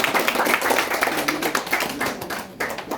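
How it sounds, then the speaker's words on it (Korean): An audience at a political association gathering gives hearty applause, a close, lively clatter of many hands clapping, briefly dipping near the end before picking up again. "다시 한번 그동안 고생하시는 두 분께 다시 한번 뜨거운 힘찬 박수 부탁드립니다"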